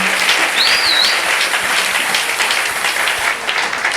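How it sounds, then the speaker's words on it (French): A church congregation breaks into sustained applause and acclamation during a worship service, loud, dense and steady for the whole stretch, with a brief whistle or cheer rising above it near the start. "Si il y a la joie d'écouter la parole, manifestons par les acclamations."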